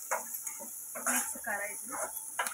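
Potato filling for paratha being stirred in a pan, the spoon giving repeated scraping, stirring strokes with a light sizzle of frying, close and moderately loud, with no voices.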